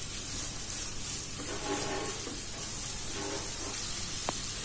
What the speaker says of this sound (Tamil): வெங்காயத்தையும் சேர்த்து நல்லா வதக்கிக்கோங்க.